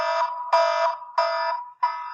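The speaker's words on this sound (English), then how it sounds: "Is that the upset alert I hear?" An alarm sound effect used as a sports upset alert blares in four loud repeated electronic buzzing bursts with short gaps, harsh and close with no voices.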